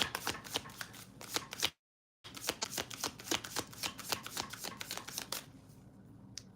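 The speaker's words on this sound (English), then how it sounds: "I hate shuffling with a watch on." Playing cards being riffle-shuffled in a run of crisp, rapid bursts, broken by a short silent gap and then a longer stretch of shuffling, close and fairly quiet, with no voices.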